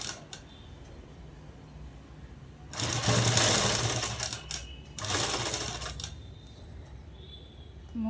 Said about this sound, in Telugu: ఇప్పుడు ఇలా పట్టుకొని కుట్టు అనేది వేసుకున్నాము.